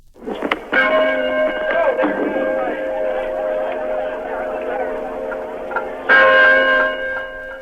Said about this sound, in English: President Ford rang the ship's bell on the USS Forrestal